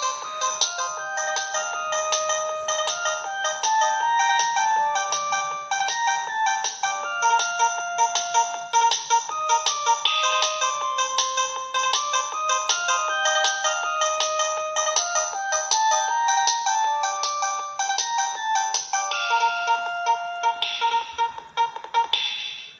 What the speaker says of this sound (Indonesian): Ini ringtone asli-asli semua nih.